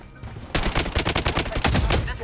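A rapid burst of Uzi automatic gunfire in the video game Blood Strike, a quick stream of sharp cracks lasting under two seconds.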